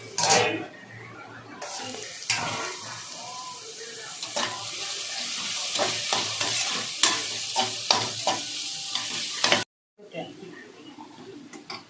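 Capsicum and cabbage sautéing in a pan for veg noodles, with a steady close sizzle and repeated stirring scrapes. The sizzle breaks off briefly near the end, and a voice is faintly present.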